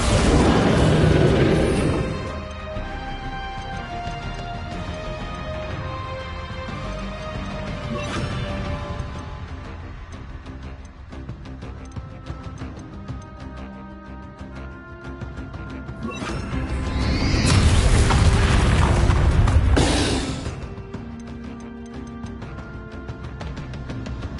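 A Bombarda explosion spell goes off in Hogwarts Legacy, a loud booming burst at the start followed by a sustained crash and rumble mid-clip, set against continuous game music and effects.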